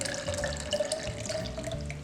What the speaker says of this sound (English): Now we're going to refill our graduated cylinder